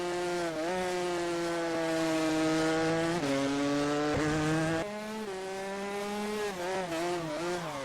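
A high-revving race car engine from the Automobilista 2 video game, heard from outside the car, with bright harmonic whine, pitch rising and dropping through gear shifts, steady and loud with a synthetic edge.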